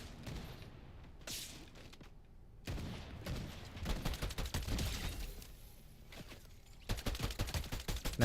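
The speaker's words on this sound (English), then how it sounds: "I think I hear gunshots over this way." Gunfire in the video game Fortnite, bursts of shots crackling in several clusters, some distant and some nearer, with repeated rapid volleys toward the end.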